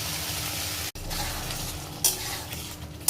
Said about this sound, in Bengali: এবার দিয়ে দিব আমি ভেজে রাখা আলুগুলো